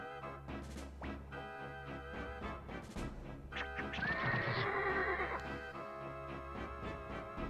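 A horse in the Suikoden 2 video game whinnies loudly over clopping hooves, with game music running underneath throughout.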